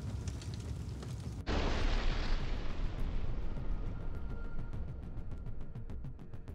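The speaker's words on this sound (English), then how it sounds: "The epic explosion of the Ukrainian Armed Forces ammunition depot." A sudden massive blast erupts as a military ammunition depot explodes after a low rumble, followed by a sustained roaring, crackling rumble with repeated popping bursts, heard from a distance.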